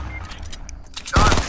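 Rapid burst of automatic gunfire in the video game Fortnite, a loud close volley near the end of the clip after a quieter stretch of game sounds.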